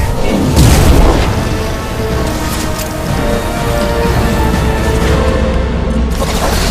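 Heavy ship-mounted weapon fire in Mass Effect 2 aboard the Collector Ship, a loud booming blast near the start rolling into a continuous dense rumble of battle that persists throughout.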